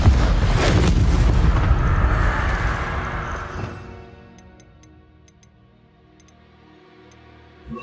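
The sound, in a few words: Confringo fire blast spell explosion, Hogwarts Legacy video game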